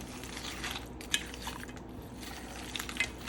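Frozen cheese tortellini stirred briefly in a cooking pot, with faint scraping and clinking of a utensil against the pot and a couple of light taps near the end, fairly quiet.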